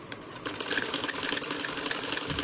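A sewing machine stitches fine, narrow seams on a lehenga, giving a steady, close mechanical whir with rapid needle clatter that runs continuously after a brief start.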